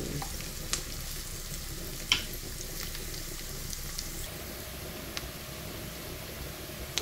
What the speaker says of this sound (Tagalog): let's wait until the garlic golden brown